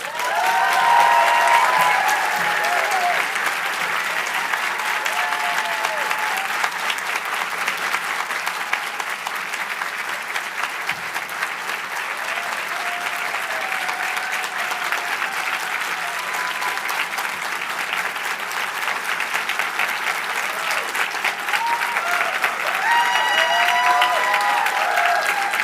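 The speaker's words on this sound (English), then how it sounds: "please help me to give the biggest round of applause Creative Mornings has ever seen for our first ever" Sustained audience applause at a CreativeMornings New York event, a large crowd clapping densely and evenly for over twenty seconds, with faint cheers near the start and end.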